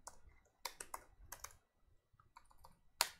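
Quiet bursts of typing on a computer keyboard, clustered keystrokes and clicks with short pauses between, close and alone.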